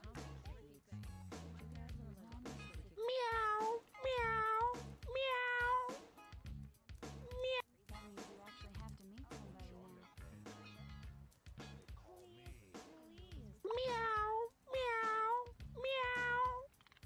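Cat meowing in the House Party video game, several bright drawn-out meows arriving in two clusters of three over a low ambient game backdrop, fairly clear and close.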